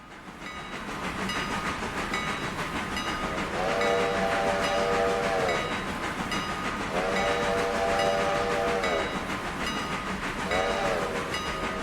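A train rolls along the rails in the Railroader game, a steady rumbling clatter with a horn sounding three times in long blasts, loud and close.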